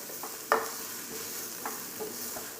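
Onion sautéing in a pan, a soft steady sizzle with a few sharp spatula scrapes and taps, close and quiet, no voices.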